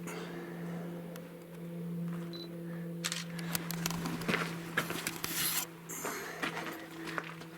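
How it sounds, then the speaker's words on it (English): A camera snaps a picture inside the stone masonry ruins of Pueblo Bonito at Chaco Canyon: a few sharp clicks over a low steady hum, mixed with rubbing and scraping handling noise, with no talk. "I'm gonna take a picture first."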